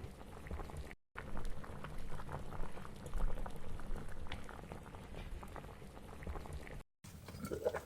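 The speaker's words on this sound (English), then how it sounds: "They have to make sure the water is really boiling so that the dough cooks and floats." Water bubbling at a steady rolling boil for cooking dough, a dense continuous gurgle with brief interruptions, close and moderately loud.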